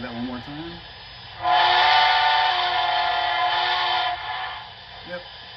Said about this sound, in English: you can tap the whistle 3 or 4 times to get a long whistle